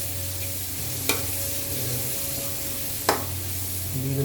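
Pancit noodles with black pepper stir-fried in a pan, a steady close sizzle broken by two sharp spatula knocks on the pan.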